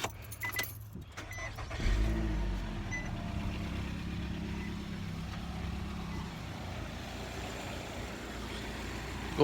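A car engine starting up after repair work, catching at about two seconds and settling into a steady low idle that runs on alone, with some clanking and handling noises before it fires.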